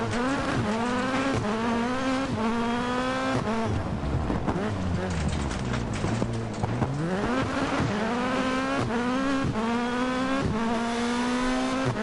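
A rally car in Dirt Rally 2.0 revs hard through the gears, its engine note rising and falling steadily with gear changes and brief tire scrubbing, loud and continuous throughout.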